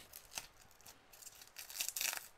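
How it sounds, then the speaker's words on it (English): Sticky plastic wrap being peeled off a manga box set, close and quiet crinkling and tacky crackles in short bursts that grow louder toward the end, with no talking. "You can feel because of the sound of how sticky it is."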